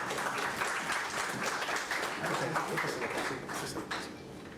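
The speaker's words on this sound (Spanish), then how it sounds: "le damos un aplauso de bienvenida a nuestro primer ponente" An audience at a medical talk on the microbiome gives welcoming applause for the first speaker. Dense, steady clapping runs throughout, fairly faint and distant, and thins out slightly at the end.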